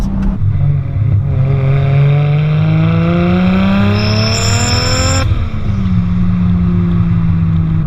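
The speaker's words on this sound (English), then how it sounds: "Hear that turbo whining? Put your foot down." A turbocharged Lexus IS200 with a screamer pipe revs hard and climbs steadily in pitch, with a rising high turbo whine over the roar before the revs drop and settle.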